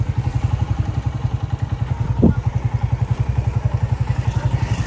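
A motorcycle being ridden produces a steady, rhythmic engine putter with even pulses throughout, loud and close, with one brief thump in the middle.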